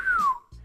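A person's voice imitates a wolf whistle, a single short tone gliding downward, clear and close, followed by a brief low vocal murmur.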